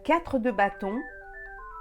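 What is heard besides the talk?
mobile phone ringing during a tarot reading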